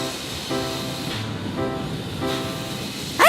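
A train approaches with a steady hissing, rumbling roar carrying faint tonal hum, and a sharp squeal rises at the very end.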